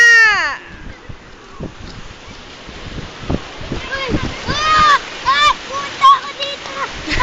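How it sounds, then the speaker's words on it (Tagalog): Strong sea waves splash and wash against bathers at the shore, loud surges breaking over voices, with people shouting and calling throughout. "Ang lakas na ng alon."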